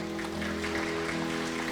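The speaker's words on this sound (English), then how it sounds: "So give yourselves a round of applause." An audience at a Chinese American lodge gathering applauds, with steady clapping over low hum, fairly faint and distant throughout.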